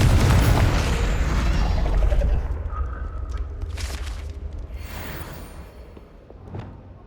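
A Confringo fire spell blast in the video game Hogwarts Legacy: a loud, booming burst at the start that rumbles and fades over several seconds, with a few softer whooshes and a small late pop.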